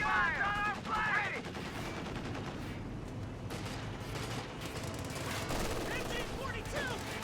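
Rapid bursts of MG-42 machine-gun fire in Company of Heroes 2, dense and continuous battle gunfire with shouted voice lines over the top.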